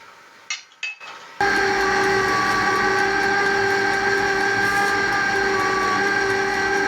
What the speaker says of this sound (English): So our ice cream machine has started complaining. It started getting slower.